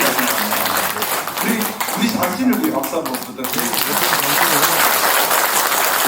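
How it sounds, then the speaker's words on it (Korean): Audience applause fills a civic town-hall style gathering in Ulsan, loud and sustained clapping from a crowd with speech-like voices mixed in, swelling and continuing for several seconds. "우리 자신을 위해 박수 한번 부탁드립니다."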